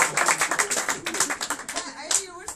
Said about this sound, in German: Und können jetzt mal bitte alle klatschen